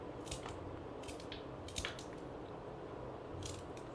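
Lotus stem being cut with a knife in a home kitchen while preparing a recipe, giving a few soft, crisp squishing cuts over steady low background noise, with no talking.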